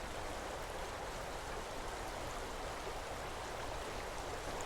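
The Puntledge River flows below a dam near Courtenay, giving a continuous, even rush of water that stays steady and fairly soft throughout, with no voices.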